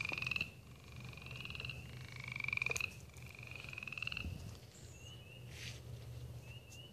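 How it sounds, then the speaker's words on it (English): Frogs down near the water croak in a repeated rhythmic series, close and moderately loud, with brief pauses and faint rustling in between. "There's frogs right down here."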